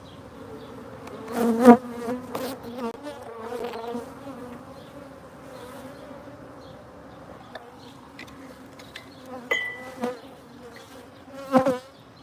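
Honey bees buzz steadily around an open hive during a honey harvest, a close continuous drone with occasional louder passes as individual bees fly near.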